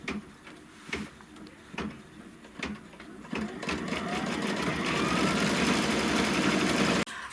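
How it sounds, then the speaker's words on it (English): A sewing machine runs a satin stitch in pink thread, starting with a few short stitch bursts and then settling into a steady, fast, close mechanical whir that stops abruptly near the end. "I still have the pink thread, or it's the peachy pink thread in the machine, and we're going to stitch that satin stitch."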